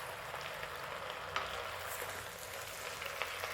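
Spinach sizzles as it is sautéed in a pan for sambar, giving a soft, steady frying hiss with occasional light pops. No one speaks.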